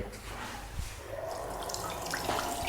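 Strong water gushing steadily from a bathroom tap with a leaking pipe below, a continuous loud broadband rush at close range throughout, with no talking.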